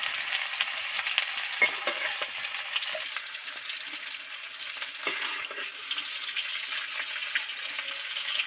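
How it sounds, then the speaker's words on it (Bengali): Cauliflower florets frying in a pan, a steady close hiss of sizzling oil with occasional stirring scrapes and clinks. "এইভাবে ফুলকপিগুলো সুন্দর করে ভেজে নিলে"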